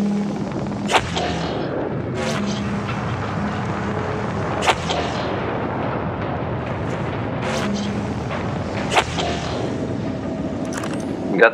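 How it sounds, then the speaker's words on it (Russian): A propulsion cannon in Subnautica fires in a slow series of sharp bursts, about six roughly two seconds apart, over a low mechanical hum inside the wrecked ship. "Пропульсионная пушка."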